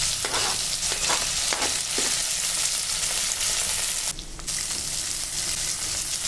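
Mustard seeds, spices and chopped onion with curry leaves fry in a pan for a bottle gourd curry, giving a steady, close hiss with a few spatula scrapes and one brief dip midway.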